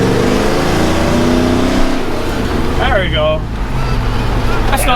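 A tired 305 engine in a Chevy Squarebody revs loud and close through a cherry bomb muffler, rising and falling, while someone talks over part of it.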